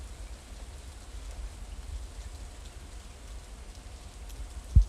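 Rain falls in the video game Stardew Valley as a soft, steady patter with a dull low wash, quiet and unbroken, with one brief thump at the very end.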